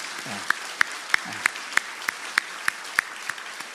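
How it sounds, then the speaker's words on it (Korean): A church congregation at a Korean Sunday service claps in unison after a baptism, about a dozen crisp, evenly spaced beats in a steady rhythm, with a brief low voice early on. "우리 힘차게 한 박수 하겠습니다"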